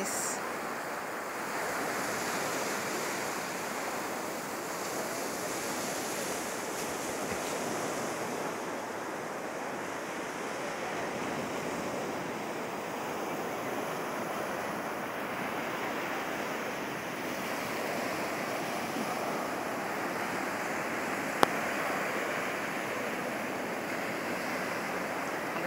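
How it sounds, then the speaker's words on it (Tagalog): Ocean waves wash steadily onto a beach at sunrise, a continuous broad surf roar with gentle swells and some wind rush, no talking. "Ganda yung dagat ngayon."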